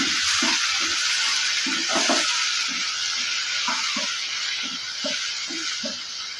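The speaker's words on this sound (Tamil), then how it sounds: "எண்ணெய் சேர்த்துட்டு ஒரு பத்து போல் சின்ன வெங்காயம் அது கூட ஒரு தக்காளி இதையும் நம்ம வதக்கி எடுத்துக்கலாம்" Small shallots and a tomato sauté in oil for a fish curry base, a bright continuous sizzle broken by regular scraping strokes of a spatula stirring the pan.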